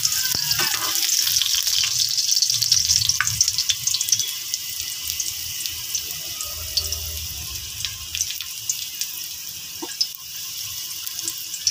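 Garlic dropped into hot frying oil gives a steady bright sizzle with crackling pops that hold loud and close throughout, with no talk over it.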